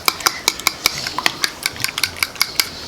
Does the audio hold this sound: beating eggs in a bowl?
yes